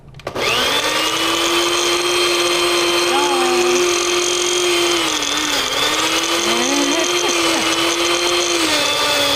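Kitchen blender churning kale and fruit, a loud continuous motor whine running the whole time with small pitch wobbles as the load shifts.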